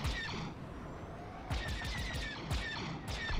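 Blaster fire from a starfighter in Star Wars Squadrons, a fairly loud volley of sharp shots arriving in clusters over a continuous engine-like rumble.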